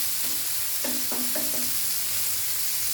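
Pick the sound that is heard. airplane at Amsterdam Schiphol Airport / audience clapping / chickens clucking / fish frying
fish frying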